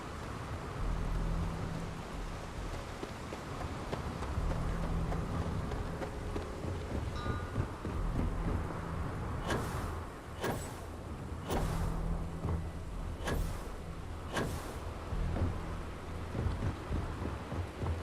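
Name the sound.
lightning storm over city of Neon in Starfield video game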